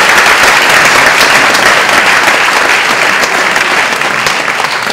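Sustained, dense applause from an audience honouring four great mountaineers at an evening event, a loud and even wash of clapping that holds steady throughout.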